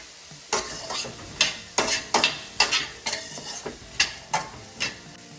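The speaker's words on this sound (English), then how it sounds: "I've just sauteed it again, just with salt, no other spices." Rice sautéed with salt in a pan for Bengaluru-style Donne biryani gets stirred in repeated scraping strokes, each a short gritty swish over a faint sizzle, close and steady with no talking.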